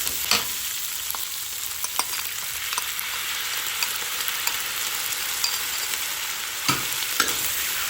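Kway teow noodles being stir-fried with sauce in a wok, a steady loud hissing sizzle throughout with occasional scraping and tossing strokes, close and with no talk.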